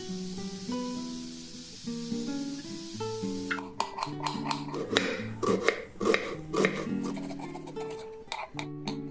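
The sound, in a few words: knife cutting boneless chicken into small pieces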